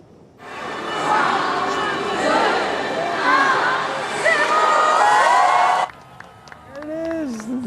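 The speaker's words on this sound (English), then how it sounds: "A huge crowd came out to witness that magical moment for themselves." A large outdoor crowd on the Champs-Élysées in Paris cheers and chatters at the Christmas lights switch-on, a sustained roar of mixed voices and whoops that cuts off abruptly near the end, leaving scattered nearby shouts.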